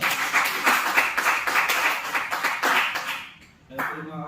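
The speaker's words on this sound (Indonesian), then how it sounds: "Kasih tepuk tangan untuk" A short burst of group clapping in a classroom or meeting, steady and moderately loud, ending abruptly just before a voice starts speaking.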